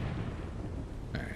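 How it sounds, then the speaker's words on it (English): A missile blast in the modded game ARK: Extinction, a heavy, rumbling boom that rolls on with a sharper burst cracking through near the end. "Oh. Missiles. I love missiles."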